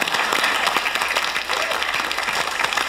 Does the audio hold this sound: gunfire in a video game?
no